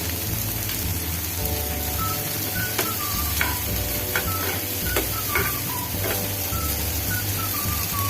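Vegetables including capsicum fry with salt in a pan for a veg frankie, a dense continuous sizzle like rain on a surface, with scattered crackles and faint spatula scrapes up close.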